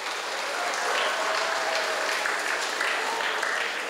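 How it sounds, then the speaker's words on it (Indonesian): Students and guests at a junior high school event in Jambi applaud together, a loud, steady wash of many hands clapping evenly for a few seconds. "Tepuk tangan untuk kita semua."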